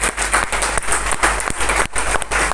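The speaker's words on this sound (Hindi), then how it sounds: "एक बार जोरदार ताली हो जाए अपने लिए।" Audience applause from a seated crowd, a dense steady patter of many hands clapping loudly and close, with no talk over it.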